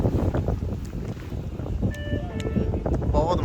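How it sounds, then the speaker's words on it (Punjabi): A cool wind gusts outdoors beside a main highway, roaring steadily across the microphone in a continuous rushing buffet, with faint background voices underneath. "ਵਧੀਆ ਮੌਸਮ ਠੰਡੀ ਹਵਾ ਚੱਲਣ ਢਈ ਆ"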